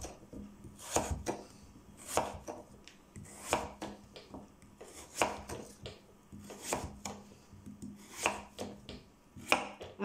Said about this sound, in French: Et je vais commencer à découper en morceaux.